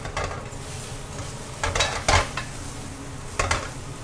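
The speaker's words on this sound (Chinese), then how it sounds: "来，我们就是煎我们的那个腐竹皮啊" Tofu skin (beancurd skin) fries in a pan on a home stove, a low sizzle punctuated by a few sharp clinks and scrapes of a utensil against the pan, close and without talking.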